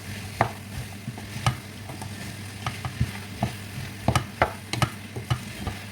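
Okra soup with crayfish being stirred in a pot, a spoon scraping and knocking at irregular intervals over a steady low sizzle, with no one speaking.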